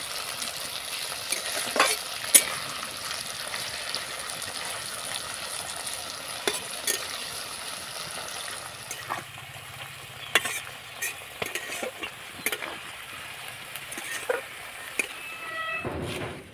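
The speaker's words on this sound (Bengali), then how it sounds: "এবার আমি সব কিছু নাড়াচাড়া করে একেবারে ভেজে নেব লাল লাল করে।" Ingredients slowly fried red in oil over medium heat while preparing an Ayurvedic oil for joint pain, with a steady sizzle and intermittent spoon knocks and scrapes in the pan, no speech.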